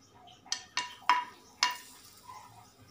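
Badiyan lentil dumplings dropped into a hot pan, four sharp sizzling crackles spaced about half a second apart, followed by a faint, fading fry in a quiet kitchen.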